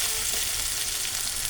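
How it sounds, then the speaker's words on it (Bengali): Crushed ginger and garlic frying with browned onions in a pan for restaurant-style palak paneer, a steady close broadband sizzle with faint stirring, no voices. "আমি একটু আদা রসুন থেঁতো করে দিলাম। আদা রসুন একটু ভেজে নেব"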